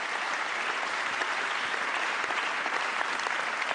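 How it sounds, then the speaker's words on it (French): Audience at the Talents des Cités 2014 awards ceremony applauding a trophy winner, a continuous, even roar of many hands clapping at steady loudness throughout, with no speech over it. "Merci d'applaudir Jérémy."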